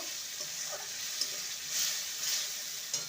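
Spice paste with tomato sautéing in a pan for papaya potato curry, a continuous gentle sizzle with a few faint spoon clicks, no talking.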